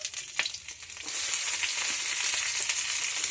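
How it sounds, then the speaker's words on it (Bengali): Onion for Bengali fish curry, with cumin and green chili, hits hot oil and bursts into a loud, steady sizzle after a second of light stirring taps. The frying hiss continues close and unbroken. "এবারে পেঁয়াজটা দিয়ে দেবো।"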